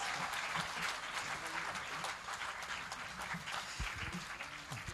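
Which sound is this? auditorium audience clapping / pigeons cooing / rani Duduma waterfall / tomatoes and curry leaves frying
auditorium audience clapping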